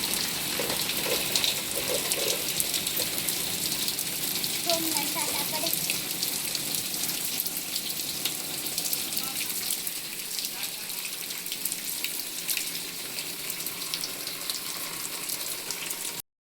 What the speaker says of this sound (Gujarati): છે ને ભાઈ વરસાદ જામી ગયો ફૂલ